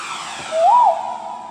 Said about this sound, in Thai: อันนี้เป็นบั้งไฟ